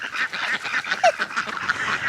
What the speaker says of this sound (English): Can you see my ducks?